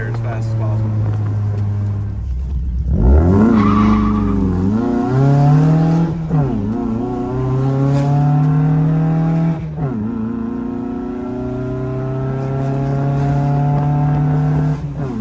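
A 1979 Fiat 124 Spider 2000 engine with dual 44 IDF carburetors revs up hard and climbs through gears, each shift dropping the pitch before it rises again, loud and close, with speech underneath.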